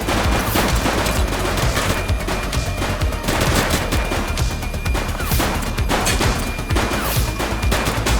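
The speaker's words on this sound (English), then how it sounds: "Shots fired! Need backup at my location!" Gunfire in the police game The Precinct: dense, sustained bursts of shots and rapid automatic fire with crashing impacts, loud and continuous throughout with no clear gaps.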